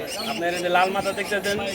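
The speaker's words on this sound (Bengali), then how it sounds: "এখানে কিছু ছোট পাখি আছে ভাই" Small cage birds call at the Mirpur bird market in a dense cluster of bright, overlapping chirps, steady and moderately loud across the short span, with a voice mixed in.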